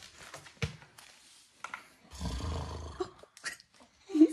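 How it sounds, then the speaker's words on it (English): A man snoring while asleep, a long rough rumbling snore in the middle surrounded by quieter breaths and scattered thumps, with a short high voice near the end. "Snoring. He is snoring."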